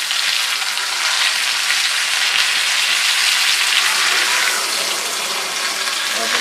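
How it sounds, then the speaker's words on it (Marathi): Fish roe fries Malvani style in a pan with a loud, continuous hiss and sizzle, close and unbroken throughout, with no talk over it. "तर आता आपली गाभोळी एक साईडनी चांगली फ्राय झालेली आहे ना."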